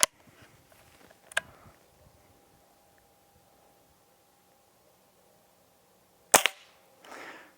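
Two sharp shots from a Hatsan Model 25 Supercharger .177 air pistol, the first near the start and the second around six seconds later, each a crisp pop followed by a short rattle, with quiet gaps between.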